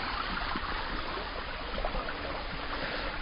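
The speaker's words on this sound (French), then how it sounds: "c'est une cascade que j'ai déjà photographiée, filmée maintes et maintes fois" Steady, even rush of falling water at the Cascade des Quaires, a continuous broadband roar heard from nearby with no talk over it.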